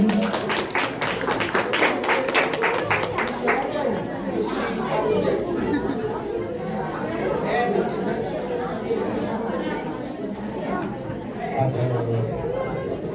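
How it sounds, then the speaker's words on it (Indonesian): Students' school-drama audience breaks into quick clapping, sharp claps loud at first, then settling into crowd chatter and talking that carries on beneath scattered taps. "Boleh tepuk tangannya dulu kawan-kawan."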